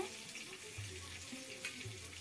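Dishes are washed under a running kitchen tap, a quiet, steady water flow with faint clinks and a few low tonal hums from the pipes, and no clear talk over it.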